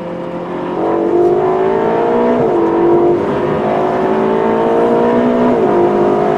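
Ferrari California T with a 560 cv engine accelerating hard at full throttle, a loud continuous engine note rising steadily through several gear changes with brief dips between shifts, close and dominant with no talk.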